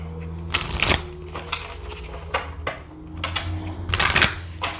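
Unicorn oracle cards are shuffled by hand in several quick riffling bursts, crisp papery flutters close to the listener, with brief pauses and softer card handling between them.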